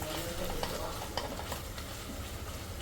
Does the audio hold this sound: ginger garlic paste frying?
yes